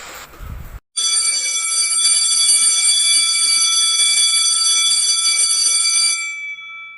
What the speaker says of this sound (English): Suddenly, the bell rang.